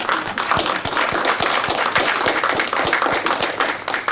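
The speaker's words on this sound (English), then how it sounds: "let's close by giving a round of applause to our candidates" An audience claps for City Council candidates at the close of a local assembly forum, with loud sharp individual claps standing out over a steady crowd of applause.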